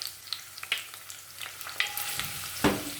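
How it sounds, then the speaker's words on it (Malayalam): Five or six small red shallots frying in hot oil, a hissing sizzle with a few scattered clicks of stirring and a louder burst of spattering near the end. "ഇതിനകത്തോട്ട് ആ ചെറിയ ഉള്ളി ഒന്ന് ഇട്ട് ഫ്രൈ ചെയ്ത് മൂപ്പിച്ച് പകുതി ഒന്ന് വാട്ടിയെടുക്കാം"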